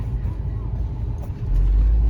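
A 2005 Volkswagen Passat B5.5 wagon on a cold day, its steady low engine and road rumble filling the cabin, growing louder and heavier toward the end as it accelerates.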